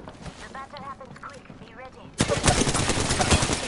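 Rapid automatic gunfire from a shooter video game, loud and dense, bursting in after two seconds of talk and continuing to the end.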